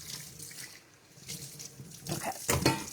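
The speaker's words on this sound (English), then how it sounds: "This is my zester. And then I'm just going to rinse it out." Water from a kitchen tap splashes over a metal zester as it is rinsed, a soft uneven gush and spatter that grows louder toward the end, with no voices.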